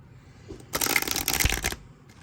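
A Starry Arcana tarot deck, a little sticky, is riffle shuffled. One dense, close burst of fluttering card riffle lasts about a second, set between quiet moments.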